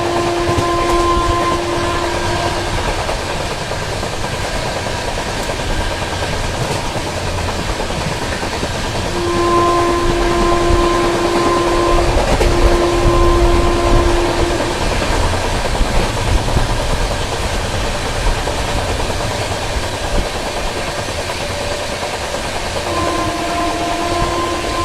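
The Goa Rajdhani Express runs along the rails with a loud, continuous rumble and rhythmic wheel clatter, while a long horn or whistle sounds several times over the steady roar; no one talks.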